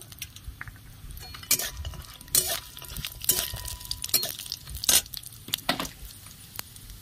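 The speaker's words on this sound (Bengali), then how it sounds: "ঘিয়ে মাখা চালগুলো দিয়ে দিচ্ছি।" Ghee-coated rice is tipped into a pot already holding hot ghee, bay leaf, whole spices, cashews and raisins, giving light metallic clinks, scrapes and a soft patter of grains nearby, with no one speaking.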